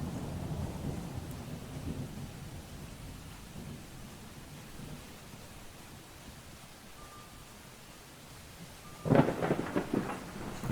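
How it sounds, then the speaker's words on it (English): Thunderstorm ambience from the Prehistoric Hunt video game: steady rain hiss with low rolling thunder early on, then a sharp, loud thunder crack near the end, no voices. "But the thunder sound effects sure are pretty strong and loud."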